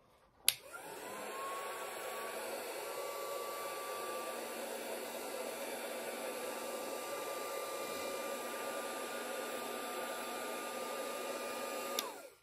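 A hair dryer blows on glittery paper flowers, starting with a click and a rising whoosh, then holding a steady airy whine for about eleven seconds before clicking off, with no talking.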